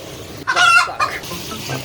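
A chicken clucking effect, a couple of short loud squawky clucks close up, heard alone without speech.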